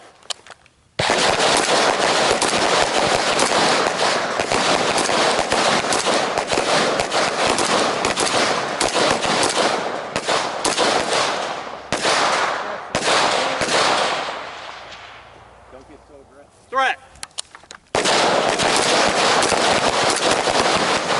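Rapid rifle fire from a carbin at close range, dense strings of sharp loud cracks with brief pauses between bursts, a fading gap, then another fast volley.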